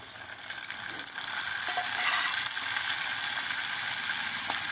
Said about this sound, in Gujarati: થોડી વાર સાંતળવા દઈશું.